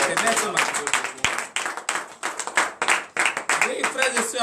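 A church congregation at morning prayer claps and cheers in bursts, loud and lively, with voices calling out acclamations over the applause.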